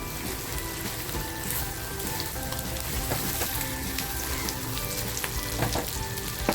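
Masala sizzles and crackles in a hot pan for a homemade kaju matar curry, a dense steady frying hiss with small pops and occasional stirring scrapes, close and fairly loud with no talking.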